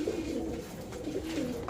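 Pigeons for sale, including a male and female pair, give low, rolling coos that repeat steadily throughout, fairly close and with no talking.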